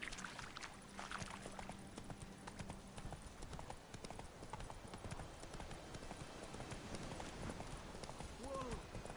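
A horse's hooves clip-clop steadily at a trot in The Witcher 3: Wild Hunt, a continuous close rhythm with a brief whinny near the end.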